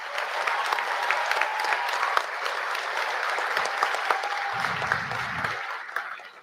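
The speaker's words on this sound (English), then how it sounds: "the applause at the very beginning was tepid" Polite, tepid applause from an audience, a steady even patter of clapping that carries on for several seconds before tapering off, with a brief low rumble partway through.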